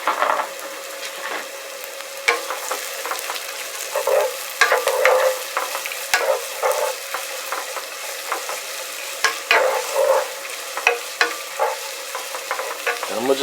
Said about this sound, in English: Next, I'm going to add my celeries and carrots.